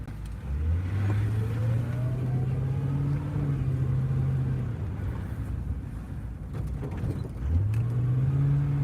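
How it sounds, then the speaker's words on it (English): A tow truck engine revs hard as the driver tries to push through, rising in pitch, holding, then dropping before a second rev climbs near the end. The engine sounds loud and close, with no talk. "Get this tow truck going."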